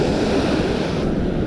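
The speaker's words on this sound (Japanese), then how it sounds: "風が強いから海も大荒れで" Rough sea churns under strong wind on an Okinawa coast, a dense, loud roar of surf and gusting air with no pause across the short stretch.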